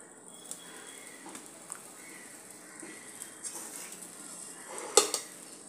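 Food roasting in a preheated frying pan on a gas stove, with soft sizzle under scattered clinks of a utensil against the pan and a sharper clatter near the end; no talking.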